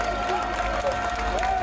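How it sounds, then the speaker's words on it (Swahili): Crowd applause at a Young Africans football club gathering: steady, dense clapping fills the whole stretch, with a sustained tone running underneath and no break in the noise. "Tuwapige makofi wananchi hawa."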